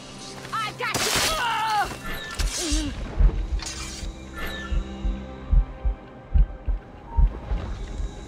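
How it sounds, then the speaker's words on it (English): In the game Assassin's Creed Rogue, a slow, deep, thudding heartbeat effect plays while the character is poisoned. The low beats grow more distinct toward the end, under dramatic voices, sharp effects and music. "Poison slows my heart."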